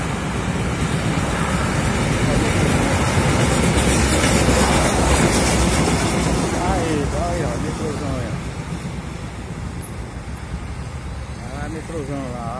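Fortaleza metro train rumbling past in Ceará, Brazil, a loud continuous rolling roar with faint clickety-clack that slowly fades, while a person talks over it.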